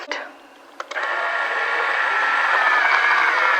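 A few clicks, then an automatic hair curler's steady whirring motor hum starts up and runs continuously, close by.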